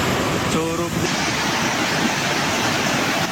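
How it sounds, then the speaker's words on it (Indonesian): The flooding Gung River in the Guci tourist area of Tegal, Central Java: a loud, steady roar of rushing water filling the whole clip, with a brief tonal sound near the start. "Derasnya aliran Sungai Gung meluluh lantakan sejumlah kolam renang dan kolam rendam air panas, serta 3 jembatan di kawasan wisata Guci."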